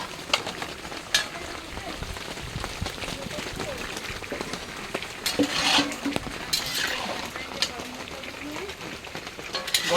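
Potatoes go into a hot cooking pan and are stirred, making a soft frying sizzle with scattered scrapes and utensil clinks. People talk over the cooking throughout.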